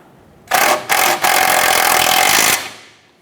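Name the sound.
tool snugging down steering rack outer tie rod nut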